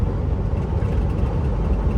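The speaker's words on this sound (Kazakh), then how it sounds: "Мына машина мазаны алып келе жатыр ғой" A car drives on the road close by, giving a steady, loud low rumble of engine and tyre noise that holds evenly throughout with no voices.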